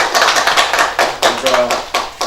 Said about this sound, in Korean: 격려 박수 한번 보내주시죠